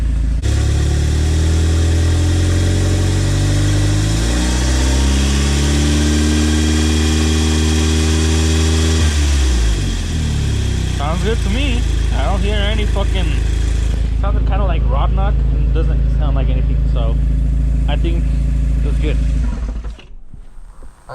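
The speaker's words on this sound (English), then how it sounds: "I'm gonna try to rev it at 2K, see if you guys hear the noise" An engine with a Wasa Motors balance shaft delete idles, then rises steadily in pitch as it revs to about 2000 rpm and holds, before dropping back; faint chirps and a voice come through in the later part.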